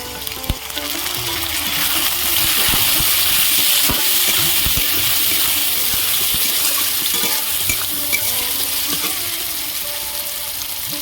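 Chopped tomato hits hot oil with fried onion in a pan, a steady loud sizzle with intermittent spoon scrapes and stirring clatter throughout, no voices.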